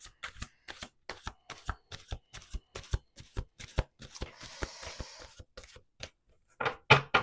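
Tarot cards are shuffled by hand in a quick run of crisp, evenly spaced riffling snaps, close and clear, ending in a denser flurry of card slaps.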